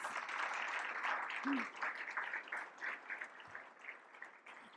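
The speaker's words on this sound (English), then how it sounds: "can I get another round of applause for Mayor Knight, please?" Audience applause for Mayor Megan Knight at a Surrey and White Rock Board of Trade State of the City event: a steady wash of clapping that holds for several seconds, then thins and fades slightly toward the end.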